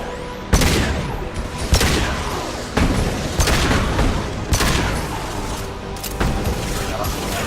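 Gunfire in the Mass Effect 2 game on the Omega level: loud, sharp shots spaced about a second apart, each with a booming tail, all under a continuous battle din.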